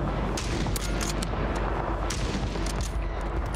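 Rapid gunfire from a Call of Duty: Warzone match, dense and loud with sharp repeated shots and heavy reverberant blasts filling the whole stretch without pause.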